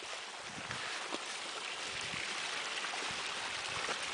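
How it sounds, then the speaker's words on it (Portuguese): A small stream flows through native cerrado scrubland in the Serra dos Cristais, giving a steady, fairly faint broadband wash of trickling water that holds evenly for the whole stretch, with no voices. "Olha o barulhinho da água."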